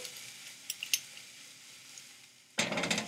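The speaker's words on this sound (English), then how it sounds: "And so we saute the onion" Onion hits hot olive oil in a pan with a sudden loud sizzle after quiet moments broken by a couple of small clinks, frying briskly on high heat.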